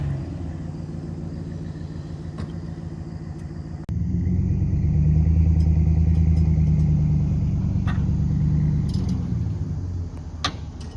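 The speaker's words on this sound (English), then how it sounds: "Oh, I hear the engine turning." A 1964 Chevy K10 pickup towed in gear so its long-dormant engine turns over, a deep steady low rumble that swells louder partway through and holds, with faint clicks and creaks above it.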